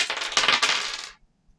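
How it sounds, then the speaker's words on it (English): Several attack dice rattle and clatter across a tabletop during a fantasy board game, a quick burst of bright clicks lasting about a second before falling quiet. "We're going to attack the goblin with 4 attack dice"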